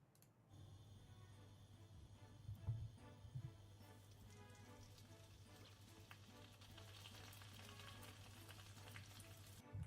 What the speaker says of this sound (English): That's not sizzling. That's just a fire.